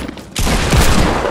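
Hand cannon gunfire in the video game Fortnite: a quiet lead-in, then a loud burst of rapid gunshots that fills the rest of the short moment, with no voices.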